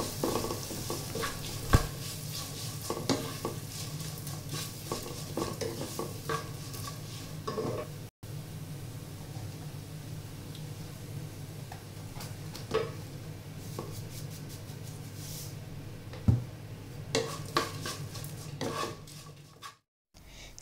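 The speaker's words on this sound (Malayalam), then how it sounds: "സവാള പെട്ടെന്ന് വഴന്ന് കിട്ടാനായിട്ട് കുറച്ച് ഉപ്പും കൂടി ഇട്ടിട്ടൊന്ന് വഴറ്റിയെടുക്കുക" Sliced onion with salt is sautéed in a pan for a potato bhaji, a long steady sizzle with repeated scraping and stirring strokes and occasional louder knocks against the pan.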